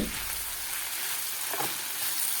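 Chopped tomatoes frying in a pan and being stirred, a soft, even hiss of sizzling with a brief stir near the middle, fairly quiet.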